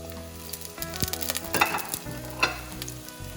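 Chopped shallots crackle and sizzle in hot coconut oil in a pan, a steady frying hiss with louder bursts and stirring scrapes, no talk.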